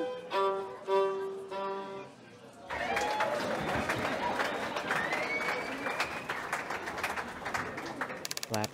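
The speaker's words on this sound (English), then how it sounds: "Clap, clap, clap." Applause in the video game The Lion's Song: a dense, steady patter of clapping from a crowd runs for several seconds after a brief stretch of voiced sound at the start.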